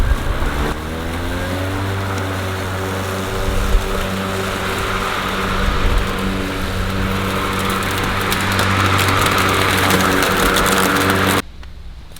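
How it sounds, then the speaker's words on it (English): A Ryobi 36V 18-inch battery lawn mower cuts grass with a steady, close motor drone and a layered whine from its spinning blade, holding for about eleven seconds before suddenly cutting out. "I'm going to bring it down a notch and do that again"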